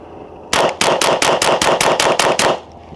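About ten sharp shots from a SIG Sauer P322 .22 pistol firing CCI Mini Mag rounds in quick succession, loud and close, followed by quiet.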